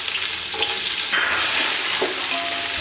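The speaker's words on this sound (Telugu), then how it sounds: "ఆనియన్స్ కొంచెం దూరగా వేగే వరకు వేయించుకోవాలి" Chopped onions fry in oil with biryani masala for an Andhra-style chicken biryani, giving a steady, close sizzle with stirring scrapes throughout and no talking.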